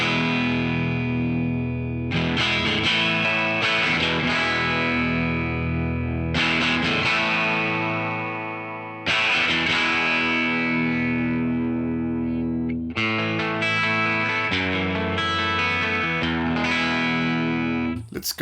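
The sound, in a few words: electric guitar through Genome amp simulator, treble all the way down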